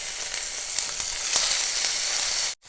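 Chopped tomatoes hit hot oil with tempered spices in a pan. A loud, steady hiss and crackle runs for about two and a half seconds, then drops out briefly before resuming.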